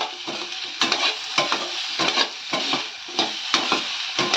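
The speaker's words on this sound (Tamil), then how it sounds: "உருண்டை அப்படியே சேர்த்து அப்படியே இப்படி இப்படின்னு கிண்டுனீங்கன்னா அவ்வளோதான்" Masala kolukattai rice dumplings are stirred in a hot pan, a quick series of scraping, clinking spoon strokes over a soft sizzle, close and rhythmic at about two strokes per second, with no voices.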